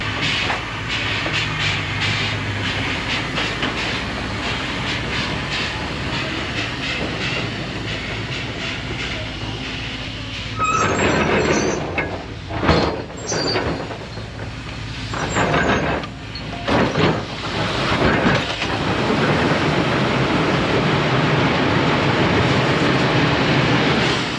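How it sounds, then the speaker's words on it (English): Steam powered shovels work on a farm machinery display, giving a steady mechanical hiss and rumble with bursts of clanking, chuffing and rattles in the middle stretch, fairly close and continuous, with no talk. "Let's go see these steam powered shovels working."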